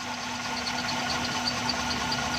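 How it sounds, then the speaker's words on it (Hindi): A Suzuki Xli car engine idles on CNG after a mixture adjustment, a steady close-up hum with a faint regular knock and no talking. "ये देखें, इंजन स्मूथ हो रहा है।"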